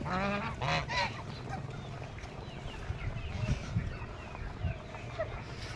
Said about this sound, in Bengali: এখানে রাজহাঁস খাচ্ছে।